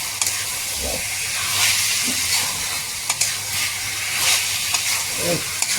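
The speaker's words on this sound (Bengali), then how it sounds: "একটু কষার পালা, কষার পালা ভালো করে একদম কষিয়ে রমরম করে দেবো" Mutton being stir-fried kosha-style in a pan, a continuous hissing sizzle with intermittent spoon scrapes and knocks against the pan, close and fairly loud.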